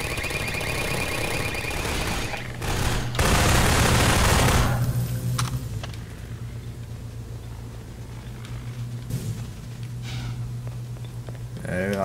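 Automated turrets in Half-Life 2 fire a burst of rapid gunfire, loud for about two seconds near the start, followed by a lingering mechanical hum. Someone speaks over parts of the sequence.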